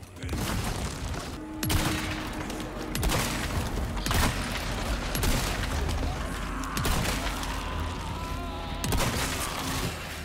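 A grenade blast in Resident Evil 4 Remake amid sustained gunfire and booming impacts, loud and dense throughout with repeated sharp bursts and rumbling low thuds.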